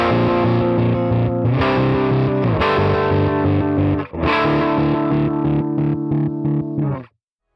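Guitar through a CorOS 3.1.0 harmonic tremolo pedal set to a square waveform, with distorted sustained chords pulsing in hard on-off steps, strummed anew every second or so, loud and alone, ending in silence.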